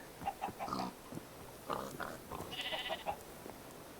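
Cows in the Minecraft modpack FTB Oceanblock moo in short, quiet bursts, several brief calls scattered over a few seconds.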